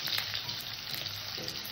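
Potatoes fry in oil with black cumin seeds, making a steady, moderately loud hiss that runs briefly without pause.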